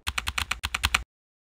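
Quick keystrokes tap on a computer keyboard while entering text in Dorico notation software, about ten crisp, close clicks in two short bursts, then silence.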